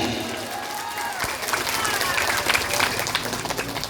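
Crowd clapping at a village Maulid Nabi gathering after a call to applaud for Indonesia, a sustained, dense patter of hands building slightly toward the end, with voices mixed in.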